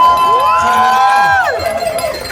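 Wedding reception crowd cheering loudly up close, a sustained group whoop rising and then falling away into scattered shouts and claps.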